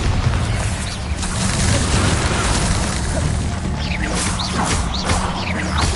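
A Bombarda spell explosion in Hogwarts Legacy booms in a dense, loud roar of blasts and crashing debris, with whooshing magical effects layered over continuous game action.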